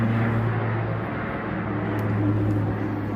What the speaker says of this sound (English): that is a really big plane